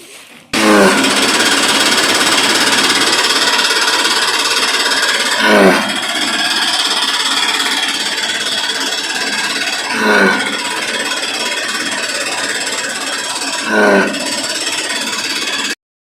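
A small Chinese-made straw cutting machine chops straw for mushroom growing with a loud, steady grinding roar that swells into a heavier chopping surge about every four seconds, then stops abruptly at the end.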